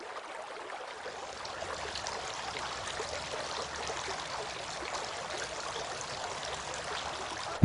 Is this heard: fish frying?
no